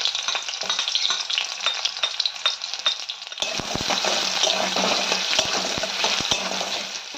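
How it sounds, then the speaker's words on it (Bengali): Chopped onion sizzles steadily in hot white oil in a kadai, a continuous crackling hiss that grows fuller and louder partway through, with occasional clinks of stirring. "এবার কুচিয়ে রাখা পেঁয়াজটা আমরা দিয়ে একটু হালকা করে ভেজে নেবো পেঁয়াজটাকে।"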